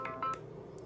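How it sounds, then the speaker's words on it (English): Telephone dialing tones sound during an incoming phone call, a few short electronic beeps in quick succession over a soft steady background, with no speech. "So, I'm getting a phone call"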